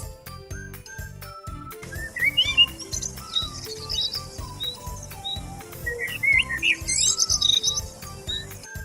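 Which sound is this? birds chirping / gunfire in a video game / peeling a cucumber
birds chirping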